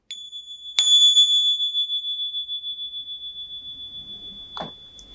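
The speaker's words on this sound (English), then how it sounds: "So we'll ring the bell" A meditation bell struck once during a qi gong session, giving a bright metallic strike followed by a long, steady, pulsing ring that slowly fades over several seconds, with a faint brief sound near the end.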